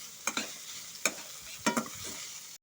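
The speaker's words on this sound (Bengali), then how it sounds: "এখন সমস্ত মশলার সাথে আমি থোড়টাকে ভালো মতো করে মিশিয়ে নেব" Banana stem tossed with spices in a pan over medium heat, stirred in a few brief scraping strokes over a steady, fairly quiet sizzle.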